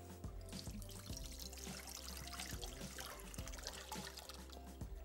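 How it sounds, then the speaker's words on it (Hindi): Water pours steadily into a cooking pan in a home kitchen, a continuous trickling splash running throughout over a low background hum. "और पैन में हम शामिल करेंगे पानी।"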